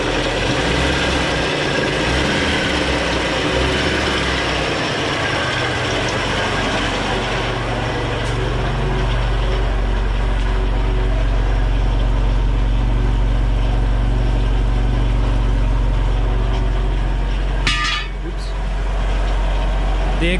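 Car engine idling with a beer-can patch on the muffler, a steady loud low rumble running throughout with a brief clatter near the end.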